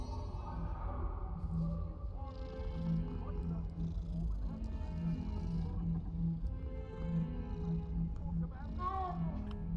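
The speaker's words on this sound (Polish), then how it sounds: "O, kicia!" Game cat from Hogwarts Legacy mewing and calling in short tonal bursts over a steady low ambient bed and game music, with a person talking intermittently alongside.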